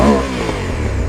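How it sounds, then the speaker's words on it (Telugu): Honda Africa Twin motorcycle engine revving close by, a loud steady exhaust note with a brief throttle blip at the start, no talk. "అండ్ ఎగ్జాస్ట్ సౌండ్ కూడా చాలా బ్యూటిఫుల్ ఉంది దీనిది."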